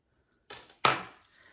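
A spoon mixing almond flour, coconut flour, baking powder and unsweetened cocoa powder into warm melted butter in a mug for a keto chocolate mug cake, giving two sharp, close metallic clinks half a second apart in an otherwise quiet room.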